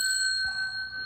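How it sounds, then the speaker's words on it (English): A single bright bell ding at a coin and precious-metals shop counter, a clear metallic ring with a steady sustained tone that holds for about a second, close and alone with no talk. "I'll ring the bell one more time"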